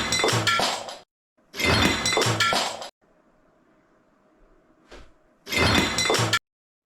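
A plate breaks in a room with a laminate floor, heard as several sharp crashing bursts separated by silences and a faint low hum, each burst loud and clattering, with no talking.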